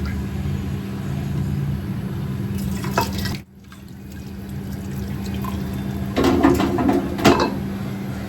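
Water pours into a cooking pot holding mint and coriander while bagara rice is prepared. The splashing is steady, breaks off briefly, then returns in stronger bursts with a few drips.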